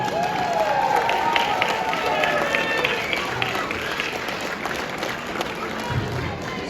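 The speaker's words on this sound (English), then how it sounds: "Round of applause, please." An audience at a school gala at a cultural center applauds, a dense, sustained wash of clapping that carries steadily from start to finish without a break.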